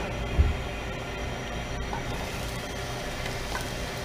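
Mushrooms hitting a very hot, oiled pan, giving a steady, dense frying sizzle that holds throughout with a brief louder burst near the start.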